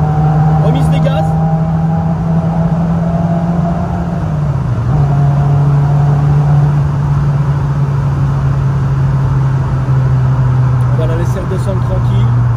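A Renault Clio 16S engine droning steadily, dipping briefly, then picking back up and holding a loud, sustained note as throttle is reapplied on the road.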